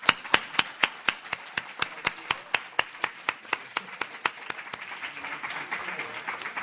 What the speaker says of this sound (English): Scott Hine, and Tamara Hamilton a round of applause